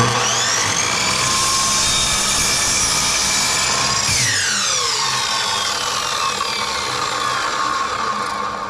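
A table saw whines loudly as it cuts wooden table legs, its pitch dropping midway as the blade bites, then running on steadily nearby.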